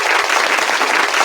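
A burst of canned applause from a crowd, dense steady clapping at full loudness throughout the short stretch.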